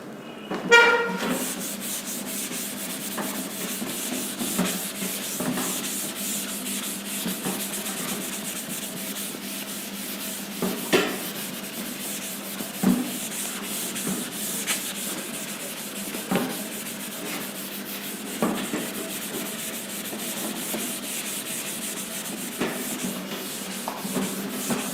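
Something rubs writing off a classroom board in a long run of scratchy, sanding-like strokes, with regular louder swipes every couple of seconds and no talk.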